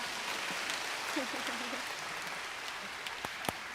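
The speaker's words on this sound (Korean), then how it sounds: "큰 박수 부탁드리겠습니다" Faint scattered clapping from a small audience, soft and thin, with a few sharper claps toward the end and a brief murmur of voices.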